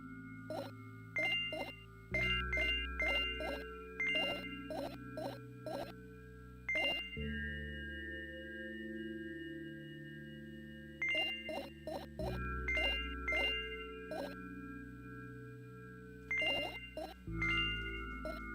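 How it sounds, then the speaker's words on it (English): A phone ringtone playing a repeating tinkly melody of bright chiming notes over sustained tones, cycling through several phrases at moderate volume with no voices. "that was the phone."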